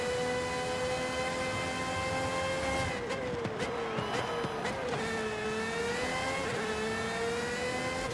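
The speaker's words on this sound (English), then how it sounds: "That extra 100 horsepower is just propelling that Valkyrie." An Aston Martin Valkyrie AMR Pro hybrid hypercar engine in Forza Horizon 5, held at a high, steady whine with a dip and brief rattling bursts midway before climbing again, moderately loud and continuous throughout.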